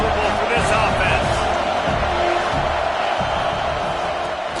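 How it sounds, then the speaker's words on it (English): Steady roar of a stadium crowd in a college football video game between Oregon and USC, a dense continuous wash of noise with faint cheers rising and falling, under a commentator's voice. "This crowd trying to make life miserable for this offense."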